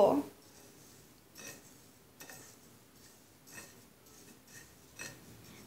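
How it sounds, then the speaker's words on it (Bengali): A spoon stirs chaat masala and chili powder into fried moong dal in a bowl for a Bangladeshi dal bhaja snack, giving a few soft, scattered scrapes and clinks at close range. "এবার মশলাগুলো মুগ ডালের সাথে ভালো করে মিশিয়ে নিব"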